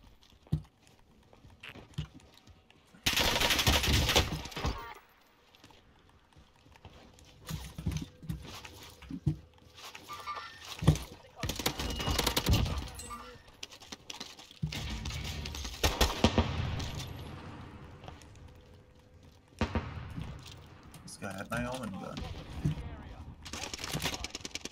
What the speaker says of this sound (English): No, that was my own gun.